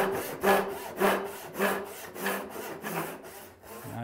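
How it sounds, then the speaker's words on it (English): A hand saw cuts wood stock for a corner slip joint in a steady back-and-forth rhythm of about eight close, rasping strokes, each roughly half a second apart. "once you get your saw cut started"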